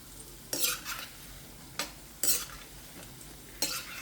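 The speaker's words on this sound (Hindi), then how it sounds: "सरसों के तेल में पकौड़े फ्राई कर रही हूँ।" Pakoras fry quietly in mustard oil in a home kitchen, under soft sizzling and three sharp stirring scrapes from a utensil in the pan.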